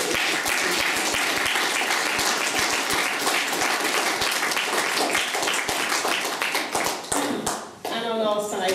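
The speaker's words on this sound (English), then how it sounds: "Can we give them all a round of applause?" A crowd applauds for the helpers at a plaque unveiling at Blackburne House in Liverpool, loud and dense with sharp individual claps. Near the end it drops off and a voice begins speaking.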